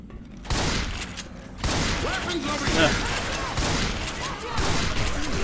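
Shotgun fire in the video game Left 4 Dead 2, repeated loud blasts and rapid gunfire bursts amid chaotic game action, with people talking over it.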